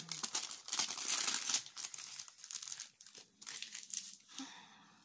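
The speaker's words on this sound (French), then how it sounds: "Alors je déchire ici." Paper or cardboard crinkling and tearing as an advent calendar door is ripped open, several close, crisp bursts that trail off into quieter rustling.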